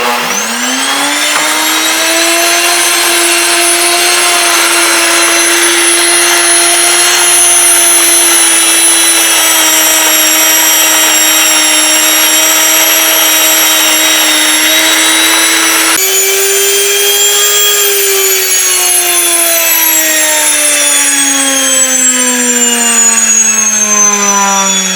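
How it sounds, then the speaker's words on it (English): A Nutrimill Classic grain mill grinds hard white wheat berries into flour, giving a loud, steady motor whine with a bright, buzzing tone that runs unbroken for the whole stretch and dips slightly in pitch toward the end. "For a grain mill, we have a Nutrimill Classic."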